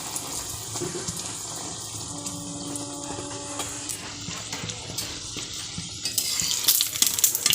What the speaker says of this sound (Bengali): এখানে এখন কড়াইতে তেল দেবো দিয়ে কড়াইশুটি কচুরিটা ভাজবো